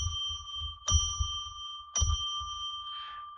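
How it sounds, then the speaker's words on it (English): A small ringing bell struck to open a live psychic radio broadcast, sounding clear sustained tones with distinct strikes, each ring lingering and decaying into the next, with faint low background noise. "I'm going to ring a bell 3 times to declare sacred space."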